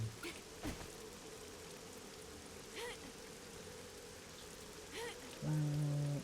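Steady rainfall in the survival video game 7 Days To Die, a faint continuous hiss of falling rain with a few soft thumps and a short tonal game sound near the end.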